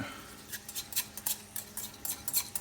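A utensil clinks rapidly against a bowl while collagen is beaten into scrambled egg for a chili cheese omelette, a quick, uneven run of light taps.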